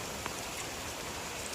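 Rain pours steadily while someone walks outdoors in Kerala, a thick continuous hiss of drops close by, even and unbroken with no voices.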